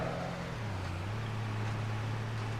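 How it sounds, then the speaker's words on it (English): An old truck in the video game Farming Simulator 25 starts up, its engine settling into a low, steady, droning idle that fills the short clip without any talk. "It sounds like an old truck when it starts, and that's what people hate about it."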